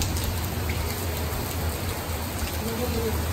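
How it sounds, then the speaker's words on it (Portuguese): Steady rain falls in a dense, continuous hiss that fills the whole stretch, loud and unbroken, with no voices over it. "Pessoal, olha essa chuva."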